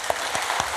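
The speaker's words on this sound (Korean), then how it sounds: "우리 아브라함을 위해서 박수 한번 해요." Members of a church congregation clap during a Sunday sermon, a brief spell of crowd applause with a few sharper individual claps standing out against the dense patter.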